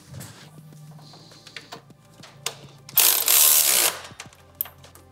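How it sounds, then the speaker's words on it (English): A wrench ratchets down the handlebar riser bolts on a 2018-2023 Indian Roadmaster or Chieftain motorcycle in a series of sharp pawl clicks, with a louder grinding burst in the middle and a few scattered knocks and clacks. "now we'll get our wrench, tighten them up."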